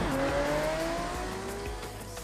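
A car driven in the racing game Project Cars 2 gives a loud engine whine that rises in pitch as it accelerates, with tire noise underneath, steady and close over about two seconds.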